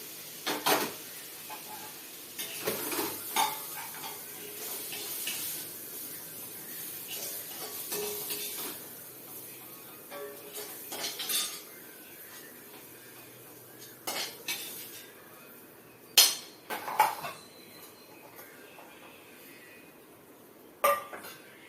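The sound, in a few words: spoon clinking while transferring cabbage chana dal curry to serving dish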